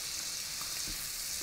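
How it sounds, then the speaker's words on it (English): Partridge breasts sizzle steadily in hot butter in a pan, a continuous close frying hiss with soft spattering throughout, no voices. "As these breasts are cooking, I like to keep covering with the hot butter."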